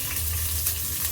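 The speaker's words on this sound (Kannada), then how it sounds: "ಸೊ ಎಣ್ಣೆ ಕಾದಾಗ ಬೆಳ್ಳುಳ್ಳಿ, ಜೀರಿಗೆ," Garlic and cumin frying in hot oil, a dense, steady sizzle that is close and continuous with no breaks.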